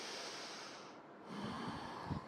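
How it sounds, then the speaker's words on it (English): A big deliberate breath during a tough yoga core exercise, a long hissing exhale followed by a couple of low snorting breaths close to the mic, with no talking. "Big breath."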